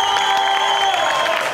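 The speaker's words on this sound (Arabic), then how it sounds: "عطونا تصفيق عليهم" A studio audience in an Algerian TV game show breaks into loud, sustained applause, dense clapping with a few cheers, steady throughout.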